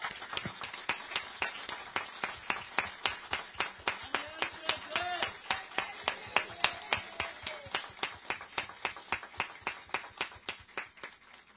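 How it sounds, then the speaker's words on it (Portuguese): An audience at an official IBGE census-release event applauds in steady, rhythmic unison claps, loud and close, sustained for several seconds with no talking. "eu queria só convidar todos nós para uma salva de palmas para o IBGE, para os quilombolas e para a Marielle"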